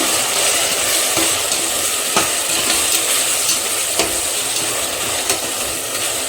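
Tomatoes and whole green chilies sizzle loudly in a pan as a mutton biryani base is fried and stirred, a continuous hiss broken by occasional scrapes and taps of the spoon.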